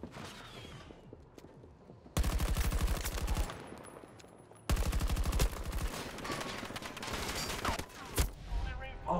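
Rapid automatic gunfire in Battlefield 2042's Hazard Zone mode, two long loud bursts of close rattling shots separated by a brief quieter gap, with a few more scattered shots after.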